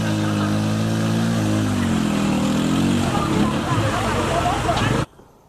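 Motorcycle tricycles stuck in a water-filled gully rev their engines loudly and continuously, with the revs rising and falling under voices, before cutting off abruptly near the end.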